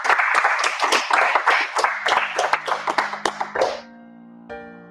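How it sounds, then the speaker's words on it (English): Lecture audience applauding after a talk on degrowth, a dense burst of clapping for about four seconds that stops abruptly, followed by a quiet sustained musical tone. "Let's give you an applause for this."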